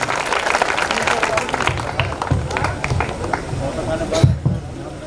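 An audience at a public Janta Adalat forum in Rafiganj, Bihar claps to welcome a speaker, a dense patter of hands running beneath a loud amplified announcer voice throughout.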